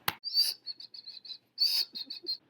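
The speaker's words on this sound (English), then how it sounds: "The bald eagle." A bald eagle calls in two bursts of high, thin piping chirps, each bright opening note followed by a quick run of shorter, clipped notes, clear and fairly close with no other sound.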